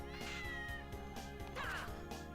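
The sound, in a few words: cat meowing in the video game Castlevania: Order of Ecclesia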